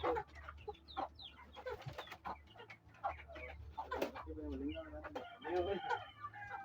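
Rhode Island chickens on a farm give off a busy run of quiet, overlapping clucks and calls, with a rooster crowing partway through, all heard at a moderate distance.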